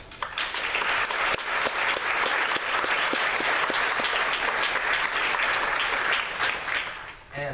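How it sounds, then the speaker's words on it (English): An audience at an orchestra performance applauds loudly for the adjudicators, a dense and sustained round of clapping that runs for about seven seconds and then drops off at the end. "Would you all please give your adjudicators a welcome round of applause?"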